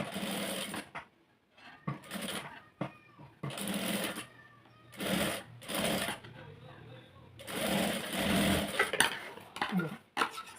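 A sewing machine stitches folded cloth along the side of a split-sleeve piece, running in several short bursts of rapid whirring separated by pauses, with a person talking between and over the runs.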